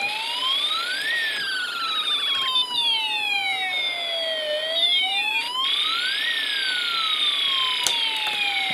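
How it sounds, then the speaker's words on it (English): An Elenco Snap Circuits electronic kit makes whistling tones that sweep slowly up and down like falling bombs, layered over a wailing siren-like pattern, synthetic and steady. "now I've introduced the space-4's IC bomb drop effect"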